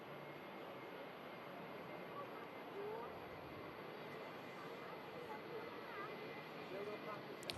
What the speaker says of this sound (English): You get two classic airliner coming in here. 757-200 series.